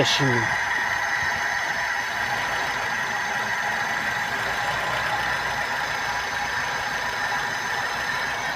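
Car engine idling steadily after a carburetor replacement, with a continuous mid-pitched hum and rattling vibration running through the whole stretch and a short burst at the start.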